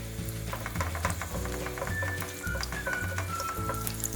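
Steady sizzling of Korean chive pancake batter frying in plenty of cooking oil fills the clip, with faint clinks and a high chirp in the background.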